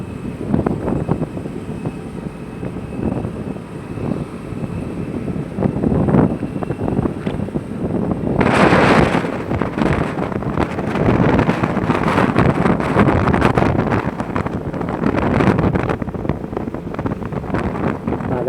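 Steady loud wind roar buffets the microphone throughout a motorbike ride outside Nellore, swelling stronger in gusts midway with a low engine rumble underneath and no voices.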